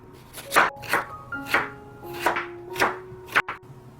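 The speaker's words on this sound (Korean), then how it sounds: "당근 3분의 1개는 채 썰어주세요." A third of a carrot julienned with a knife on a cutting board, six or seven crisp, evenly spaced chops close up in a quiet kitchen.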